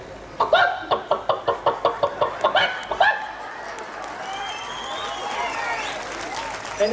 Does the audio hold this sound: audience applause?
yes